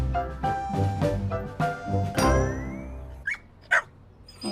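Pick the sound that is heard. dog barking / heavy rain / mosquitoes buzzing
dog barking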